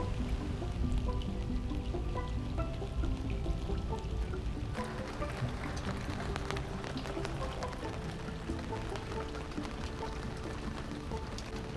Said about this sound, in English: According to the radar, it should be only a few minutes, and then the rain should end.